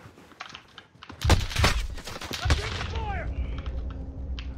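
Gunfire in a Call of Duty Warzone match, a few sharp close shots and short bursts with echoing tails, alongside quieter game noise and clicking.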